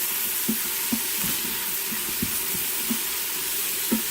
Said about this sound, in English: And then I'm going to go ahead and saute these.